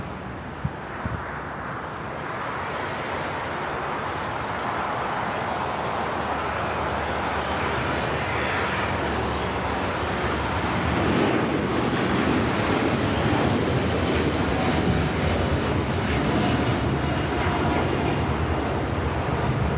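El Al Boeing 787-9 Dreamliner jet on its takeoff roll at Los Angeles airport, a steady broadband engine roar with wind buffeting that builds gradually and stays loud, no voices over it.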